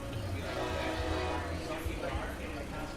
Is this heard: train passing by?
yes